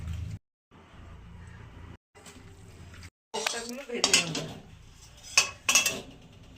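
Ginger, garlic and onion paste mixed by hand into a cauliflower-and-potato kofta mixture in a metal bowl, with close scraping and clinking of utensil against the bowl, brief gaps of silence between bursts and sharper clanks toward the end.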